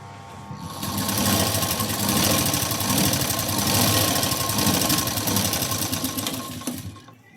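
Sewing machine running steadily for several seconds as it stitches the tuck on a size 34 katori blouse, a close, loud, continuous mechanical whir that starts and stops cleanly.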